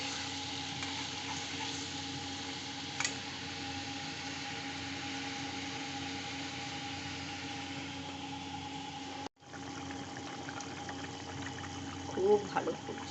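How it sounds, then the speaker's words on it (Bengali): Katla fish curry with lentil fritters bubbling at a steady boil in a pot, a continuous moderate hissing simmer with a brief clatter near the end. "খুব ভালো ফুটছে"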